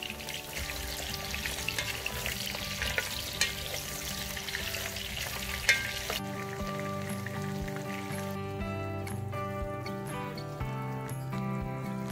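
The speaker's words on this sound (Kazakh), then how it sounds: "көкөністі біз қурамай, осындай үлкен күйінде қуырып аламыз" Steady sizzling of large pieces of vegetables frying in a pan, constant crackle and hiss with some stirring, no voices.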